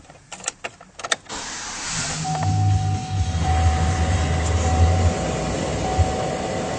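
A 2009 Chevrolet Silverado 1500 LT Z71 4WD extended cab pickup opens with a few clicks and clunks, then the engine cranks and catches into a low, steady idle rumble that settles and holds.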